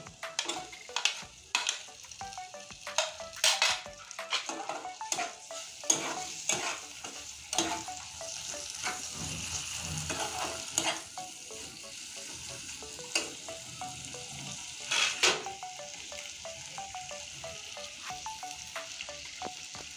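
Chopped tomatoes hit a hot frying pan and are stirred, giving a steady sizzle with scraping spoon strokes and clattering stirs, fairly close and alone with no voices.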